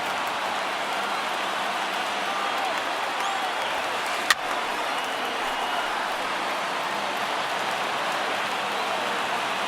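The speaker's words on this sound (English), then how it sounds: "Not the largest crowd ever, but they're on their feet." A sparse baseball stadium crowd in MLB The Show 19 rises to its feet, giving a steady, hissing wash of cheering and applause. A single sharp crack cuts through the crowd noise midway.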